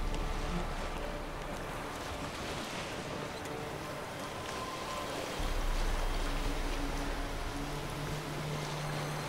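A boat sails on open water in The Witcher 3, a steady wash of waves and wind rushing past the hull with a continuous low rumble and no pauses.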